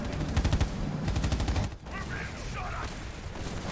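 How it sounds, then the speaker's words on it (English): Anti-vehicle turrets in a Black Ops 7 match fire rapid rhythmic bursts of automatic gunfire, loud and close for the first half, then give way to a softer mix of distant battle noise. "Anti-vehicle turrets are putting in work"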